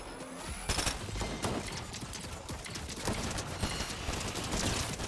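Rapid video game turret gunfire crackles in a dense, continuous burst of shots for several seconds, close and steady, with no talk over it.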